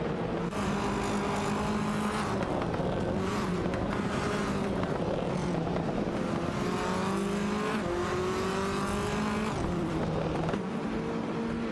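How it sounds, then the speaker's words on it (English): Race cars in a video game race, including a Honda Civic FA and an Audi TT Cup, roar continuously with layered engine tones rising and shifting as they contest position, loud and steady throughout with no talk. "Sabina 27 in a Honda Civic FA and Roadhog 29, 389, in an Audi TT Cup are fiercely contesting for 21st place."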